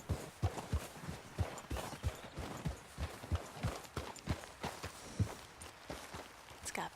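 Horse hooves clip-clopping at a steady walking pace in the Red Dead Redemption 2 video game, a regular series of distinct, moderately close hoof strikes with faint ambient background.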